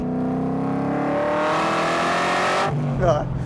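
A 1962-67 Chevy Nova on a SPEC chassis with 315-width rear tires accelerates hard at full throttle, a loud engine roar climbing steadily in pitch before dropping sharply as it shifts or lifts near the end.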